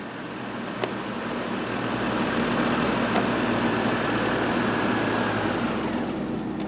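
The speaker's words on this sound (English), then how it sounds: "we've got the engine shut off now" A Chevrolet Trailblazer engine idles steadily, a low rumbling drone with a faint higher whine that holds evenly throughout; the shut-off itself is not heard.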